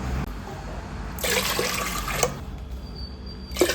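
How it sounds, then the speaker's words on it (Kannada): Water poured from a bowl into a pot for Coorg-style kadambuttu steamed rice balls, two short splashing pours close by in a quiet kitchen. "ಅದೇ ಬೌಲಲ್ಲಿ 3 ಬೌಲಷ್ಟು ನೀರು ಹಾಕ್ಕೊಳ್ತಾ ಇದ್ದೀನಿ"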